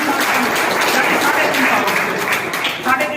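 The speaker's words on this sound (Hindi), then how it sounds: "तो एक बार जोरदार कंपनी के लिए तालियां होनी चाहिए।" A burst of dense applause from a business-event audience celebrating the YouTag company, steady loud clapping throughout the short stretch with faint crowd noise beneath.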